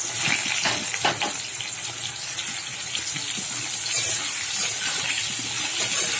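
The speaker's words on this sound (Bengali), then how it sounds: "ওই তেলের মধ্যে আমি ঝিঙেটাও ভেজে নেবো হালকা করে" Sliced ridge gourd fries lightly in hot oil, giving a steady, close hissing sizzle with soft crackles throughout and no talk.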